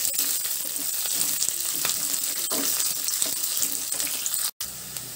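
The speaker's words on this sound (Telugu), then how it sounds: "తాలింపు అంతా చక్కగా వేగిపోయిందండి" Curry leaves and other tempering spices sizzle in hot frying oil, a bright continuous crackle with a few clicks of a stirring spoon, close and steady, with a brief dropout near the end.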